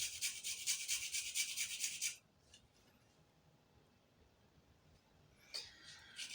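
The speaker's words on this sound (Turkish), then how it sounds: "6 diş sarımsağı üzerine rende, rendenin ince tarafında rendeleyelim." Garlic cloves rubbed on the fine side of a grater, a close, bright rasping burst for about two seconds, then quiet before a short second scrape.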